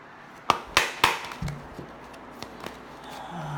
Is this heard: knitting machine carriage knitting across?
no